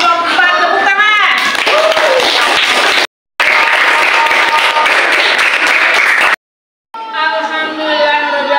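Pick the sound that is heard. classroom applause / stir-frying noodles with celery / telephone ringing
classroom applause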